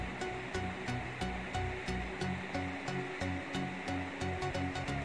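A kitchen mixer grinder churns rice with coconut water into batter, giving a continuous whirring roar with repeated rattling clicks from the jar.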